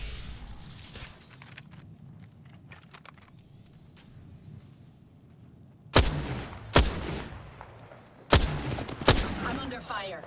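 Gunfire in a video game: after a quiet stretch of low ambient rumble, four loud, sharp shots or blasts crack out in two close pairs near the end.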